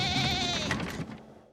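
A sheep gives one long, wavering bleat, loud and close at first, then fading out into quiet, with no talk.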